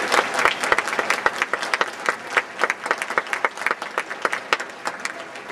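An audience at a 2011 spring graduation ceremony at Globe University-Madison applauds to welcome a speaker. Sustained, loud clapping from a crowd fills the hall without pause.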